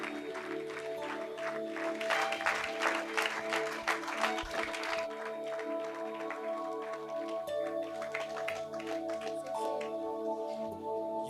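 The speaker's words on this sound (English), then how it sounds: "Can we have a big round of applause for the team, please?" An audience at a business school conference and awards event applauds a team in a dense, continuous round of clapping that stays even throughout, with faint crowd murmur underneath.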